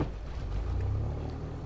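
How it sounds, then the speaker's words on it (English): Aircraft engines in Flight Simulator X hold a low, steady rumbling drone at idle, a continuous hum heard alone without any talk. "Oh yeah, my engines are on."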